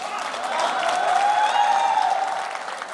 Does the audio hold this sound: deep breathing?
no